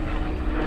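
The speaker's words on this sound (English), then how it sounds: "Hugh, while we're watching this P-51 go by" A P-51 Mustang World War II warbird roars past at an air show, its propeller engine a loud, dense, steady drone filling the moment with no voices.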